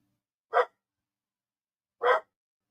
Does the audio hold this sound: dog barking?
yes